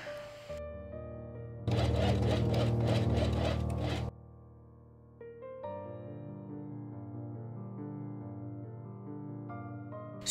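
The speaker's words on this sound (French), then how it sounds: "Ensuite, je vais coudre les 2 côtés ensemble." Sewing machine stitching the sides of fabric sleeves for a summer top, a close mechanical whir in short runs, one loud burst followed by quieter steady humming.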